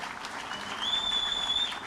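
Steady applause from an audience at a Turkish public event in Mersin, a brief even wash of clapping at moderate volume with no talk over it.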